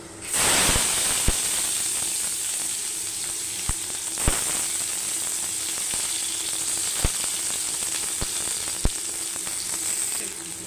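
Panch phoron and chopped onions hit hot oil with a loud, steady, close sizzle that runs throughout, dotted with occasional sharp pops and crackles.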